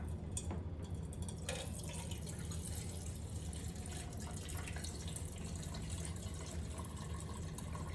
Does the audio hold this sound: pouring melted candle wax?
yes